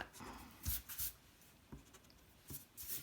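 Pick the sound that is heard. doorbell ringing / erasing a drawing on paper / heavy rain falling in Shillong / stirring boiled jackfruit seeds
erasing a drawing on paper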